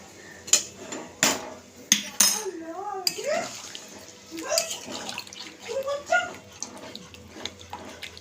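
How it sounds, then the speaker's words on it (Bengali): Water is poured in a small measure into a pot of chicken biryani being cooked dry, with clattering of utensils against the pot, a few sharp knocks and a voice speaking over the sounds. "জলটা দিয়ে দিচ্ছি, জাস্ট একটু"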